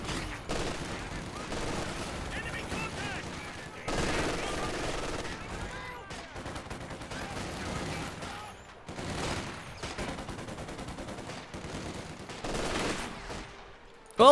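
Machine gun and rifle fire in the WWII strategy game Company of Heroes 2, including a .50 cal machine gun, crackling in repeated bursts through a busy battle mix with explosions, broken by brief lulls.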